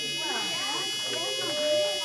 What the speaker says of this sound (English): Just grab hold of that buzzer for me.